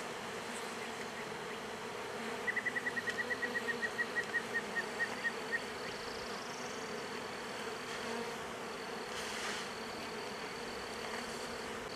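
A honeybee colony hums in a steady, faint, continuous buzz at a hive with its brood nest cluster. A brief run of quick, high ticking chirps rises over it for a few seconds.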